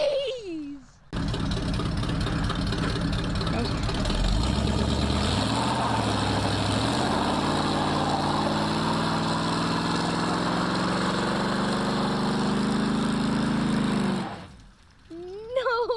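An old 1976 Chevrolet C10 squarebody pickup engine cranks, catches and roars up, then settles into a steady loud rumbling idle close by before shutting off, with a voice briefly at the start and end.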